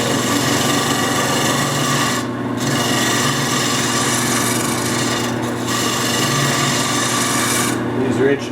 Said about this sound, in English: Just turning the ends here so that they fit into the holes that we just drilled into the seat bottom.